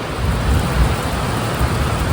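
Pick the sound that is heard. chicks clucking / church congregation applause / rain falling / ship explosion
rain falling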